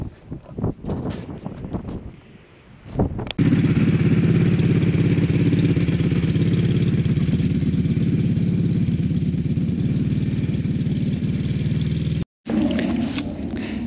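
An ATV engine fires up after some handling knocks, then runs at a steady close, loud idle-to-cruise drone while towing a Yetta Motor 350-pound dump cart, cutting briefly near the end before resuming.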